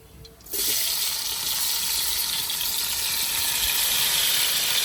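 Chopped onions tipped into a hot pan for an home-style mushroom biryani, a sudden loud broadband sizzle starting about half a second in and holding steady, close and alone with no talk.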